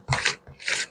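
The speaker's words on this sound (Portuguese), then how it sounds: "Aí eu vou raspando," A silicone spoon scrapes through a granilite mix in two quick, close rasping strokes with a brief pause between them.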